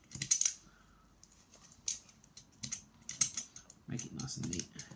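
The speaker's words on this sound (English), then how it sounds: "break off the ends of the toothpicks and cut off the excess" Wooden toothpick ends being snapped and trimmed on a Ugears wooden model car, a series of short, sharp clicks and snips close by, spaced irregularly, with a person talking softly underneath.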